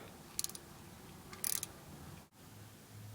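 A wrench cracks loose a long bolt on the driveshaft yoke of a Ford 8.8 inch axle, giving two brief metallic ratcheting bursts against a quiet garage background.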